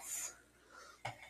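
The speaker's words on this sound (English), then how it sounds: "It's easier to mix with this little spoon." A small spoon stirs cookie dough in a bowl with soft scraping and light taps, ending in a single sharp clink against the dish; no one speaks.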